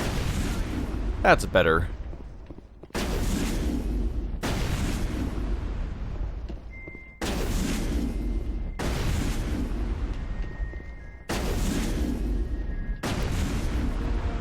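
Shotgun blasts in Mass Effect ring out in a series of about five heavy booming shots, each followed by a short decaying tail and spaced a second or two apart, with someone briefly speaking between them.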